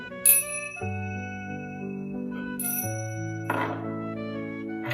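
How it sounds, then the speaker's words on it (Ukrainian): Small musical cymbals in a children's music lesson ring out with bright metallic tings, followed by sustained tonal chiming and a second struck shimmer near the end, all clear and close with no talking. "Ось цей музичний інструмент, який називається музичні тарілочки, мені нагадує ніжний підсніжник"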